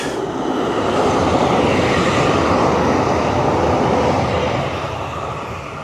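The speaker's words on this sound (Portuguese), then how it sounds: "É o trem de carga que passa aqui." A freight train passes close by on a rail line, a loud, steady broadband rumble and roar that holds for several seconds, then begins to fade toward the end.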